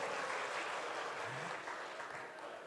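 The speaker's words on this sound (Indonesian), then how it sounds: "Tepuk tangan untuk kita semua." Audience applause in a hall during a book discussion event, a steady, fairly soft wash of many hands clapping that fades slightly toward the end.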